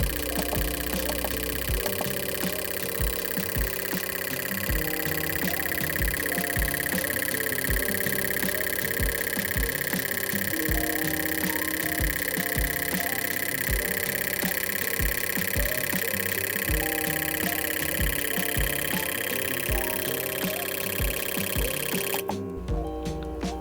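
Fuel injector tester, the Ancel JC200, firing an injector nozzle at 2000 RPM: a steady, fast mechanical ticking pulse over a constant hum, ongoing and close, cutting off near the end.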